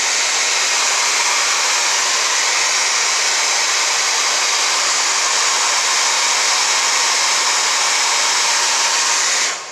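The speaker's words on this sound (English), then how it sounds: "I'm just going to blow dry it. I'm going to heat it up." A hair dryer blows steadily and loudly, a constant broadband whoosh that holds for the whole stretch, then cuts off at the very end.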